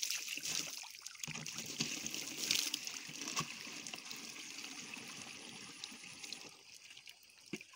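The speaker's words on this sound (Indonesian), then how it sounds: "Lalu kita tuang dulu lagi air yang di dalam tadi" Water being poured out of a container and refilled with fresh water, with a steady splashing, trickling flow that runs throughout, fairly close, in an oil palm plantation.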